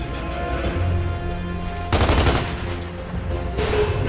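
Rifle gunfire in Gears of War 2: a loud burst of shots cracks out near the two-second mark and another near the end, over a steady droning game soundtrack.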